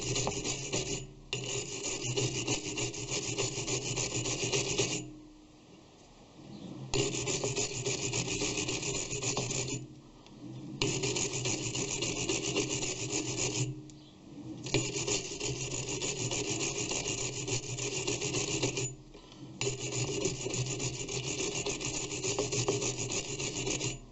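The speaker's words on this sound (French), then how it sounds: "Une bonne brosse métallique." Steel wire brush scrubbing freshly cut 2 mm pitch double-start threads on a metal lathe, a loud continuous rasping in long strokes of several seconds each, separated by brief pauses.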